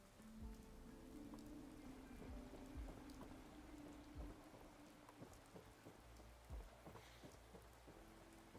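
Steady rain and wind in a survival video game form a dense, constant wash, with scattered heavier drops and low rumbles; quiet and without voices.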